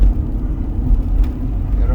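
Road traffic of cars on a hot afternoon, a steady low engine rumble from nearby slow-moving vehicles with a voice talking over it.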